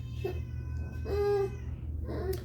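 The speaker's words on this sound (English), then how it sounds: "That's the cat." A cat meows three times in close succession, the middle call longest and most drawn out, over a low background hum.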